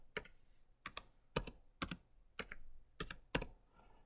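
Numbers typed on a computer keyboard in short bursts, distinct clusters of crisp keystrokes close by, evenly spaced with pauses between groups.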